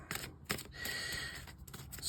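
Tarot cards are shuffled close by in quick riffling bursts, soft papery flutters and snaps with brief pauses between them, quiet and alone.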